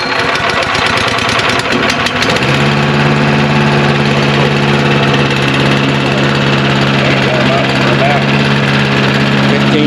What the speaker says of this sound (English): Alrighty, we got the fuel on, ignition on. That's the choke. Hopefully it won't take more than a couple pulls.